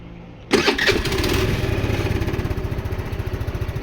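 A motorcycle engine starts abruptly from quiet with a loud crank and catch, then settles into a loud, close, steady pulsing idle that continues to the end.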